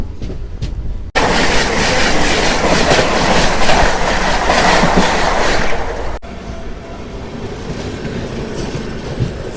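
A MEMU passenger train on the Secunderabad to Warangal line, just departed Ghatkesar, rumbles and clatters loudly on the rails from inside, then settles to a quieter, steady running rumble.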